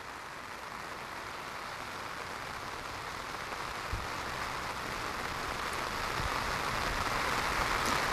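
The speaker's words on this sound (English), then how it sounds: "the rain is now beating down" Heavy rain beating down on an outdoor soccer field during a girls' high school match, a steady broadband hiss that is faint and distant, growing slightly stronger toward the end, with a couple of soft thumps.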